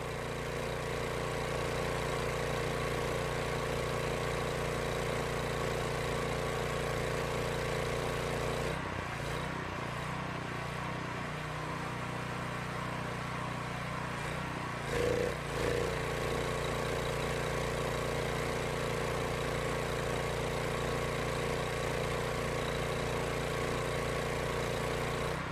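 A Kohler petrol engine runs steadily on a pressure washer, a constant close mechanical drone with a brief dip in load midway and a small bump later, with no talking.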